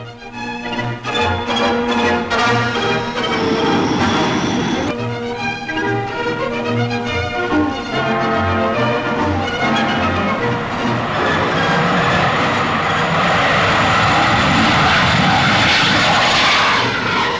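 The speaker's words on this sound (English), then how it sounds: "And the plane, of course, the record-breaking Canberra." An English Electric Canberra bomber jet flies past with a loud, steady engine roar that swells toward the end, mixed with a continuous musical backdrop and no talking.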